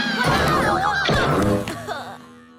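Cartoon alarm screen bursting into a shrill wailing scream, a loud high whooping cry over a few seconds that fades toward the end.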